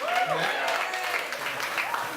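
Crowd applauds the performers at a music event, with whoops and shouting voices mixed into a loud, continuous burst of clapping.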